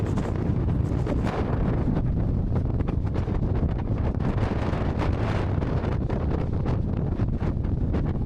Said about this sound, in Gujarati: બહુ જ હેવી પવન આવે છે